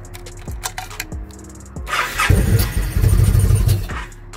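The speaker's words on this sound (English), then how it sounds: "I'm gonna turn the key to the ignition, and once the fuel pump primes, I'm immediately going to start it" Yamaha V-Star 1300 motorcycle on a cold start with a starting problem: a few short clicks and ticks, then a loud, near cranking churn lasting about two seconds.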